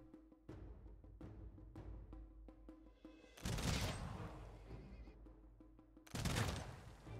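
Gunfire from units in the strategy video game Humankind crackles in quick bursts: a scatter of sharp shots, then two dense volleys of rapid fire, each fading out.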